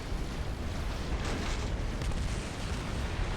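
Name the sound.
artillery fire in a strategy video game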